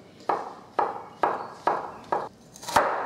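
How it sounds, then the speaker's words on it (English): A knife dices mushrooms on a chopping board for creamy mushroom pasta, giving six crisp, evenly spaced knocks about half a second apart. Each knock is close and moderately loud, with no voices. "So I'm just dicing my mushrooms, chopping them in half and dicing them."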